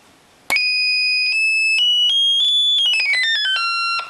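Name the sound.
Dubreq Stylophone Gen X-1 played at full level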